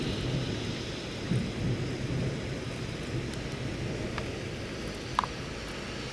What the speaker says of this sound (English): it's a summer storm.